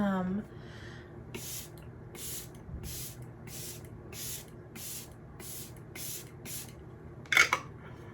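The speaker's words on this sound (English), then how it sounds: "This is the LYS setting spray." LYS setting spray misted onto a face during a makeup routine, about eight short evenly spaced hissing spritzes, close and crisp, with a brief breath or snort near the end.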